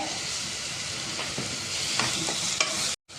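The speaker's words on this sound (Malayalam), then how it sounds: "അപ്പോൾ ഉള്ളിയൊക്കെ നല്ല വഴന്നിട്ടുണ്ട്." Onions sautéing in a pan with crushed aromatics and curry leaves for a bone-in meat curry, a continuous close sizzle with scattered spatula scrapes and a brief cutoff near the end.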